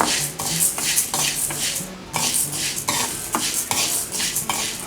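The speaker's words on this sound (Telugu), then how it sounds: "ఇప్పుడు ఈ కందిపప్పుని మంచి సువాసన వచ్చే వరకు లో ఫ్లేమ్లో పెట్టుకుని ఫ్రై చేసుకోవాలి" Toor dal dry roasting in a pan over a low flame, stirred in a steady rhythm with repeated scraping and light rattling of the spoon against the pan, close and fairly loud with no talking.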